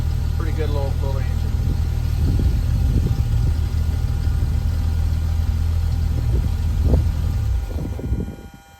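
Small engine running after a Carter one-barrel carburetor rebuild, a steady low idling rumble close by with people talking over it, fading out at the end.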